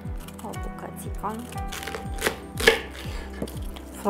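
A knife chops through washed celery stalks on a board in quick, regular thuds, a steady run of crisp strikes close by, with a voice talking faintly underneath.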